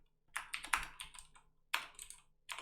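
JavaScript code is typed on a computer keyboard in two quick bursts of close, crisp key clicks separated by a short pause, faint overall and with no talk.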